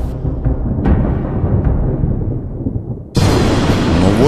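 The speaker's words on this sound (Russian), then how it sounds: "Но вот послышался страшный гром, засверкали молнии" Thunder from a storm rumbles low and steady, then cracks into a sudden, much louder roaring burst that stays loud to the end.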